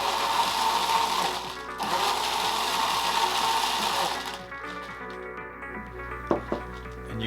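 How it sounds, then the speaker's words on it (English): Spindle blender whirring through a pineapple juice and tequila cocktail in a mixing tin, a loud steady motor drone that cuts off partway, followed by a few light clinks. "So we'll just blend this for a moment."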